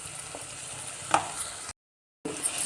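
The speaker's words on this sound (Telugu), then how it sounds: "మళ్ళీ మధ్య మధ్యలో కలుపుతూ ఉండాలి." Soft sizzling in a pan with a spoon scraping and clinking as ridge gourd curry is stirred, briefly cut by a moment of silence.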